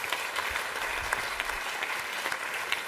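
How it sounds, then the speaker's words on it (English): Audience applause after a sacred Sikh music performance at an evening event, a steady wash of many hands clapping at moderate distance throughout, with no speech over it. "we really have to applaud the superb performance that's been put up today"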